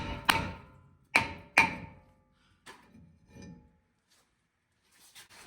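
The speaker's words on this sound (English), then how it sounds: "If that's the case, use a hammer, hit it inside here." Hammer blows striking a stuck brake rotor on a Ram 1500 pickup truck, three sharp metallic hits that ring out, then softer knocks and a faint clatter.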